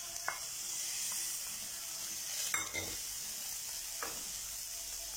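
Sautéed vegetables tossed into chicken stir-frying in a pan: a steady soft sizzle close by, with a few brief scraping and tossing bursts spread through the clip and no talk.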